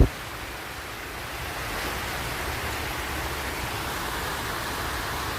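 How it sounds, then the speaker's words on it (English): A water feature fountain in a town center splashes as a constant broadband rush of falling water, steady and fairly loud throughout, with no talk. "there's another water feature here"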